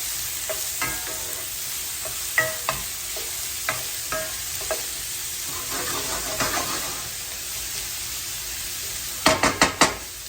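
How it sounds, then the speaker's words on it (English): Beans being stirred in a pan of hot bacon grease, a steady oily sizzle with scattered scraping utensil strokes and a quick burst of clatters near the end. "So we'll get them into the pan there. Stir them around. Get them all nice and coated with that oil."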